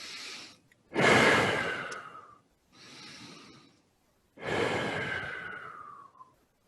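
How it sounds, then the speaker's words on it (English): Slow, deep breaths taken in through the nose and released through the mouth during a yoga session, each long airy exhale louder than the quieter inhale, close and unhurried with pauses between. "Taking a couple of deep breaths in through the nose, out through the mouth"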